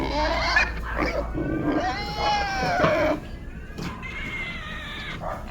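A pig about to be slaughtered squeals and cries in several loud, shrill bursts with short pauses, close by, and no talking.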